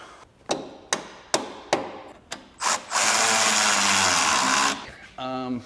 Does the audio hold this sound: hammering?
yes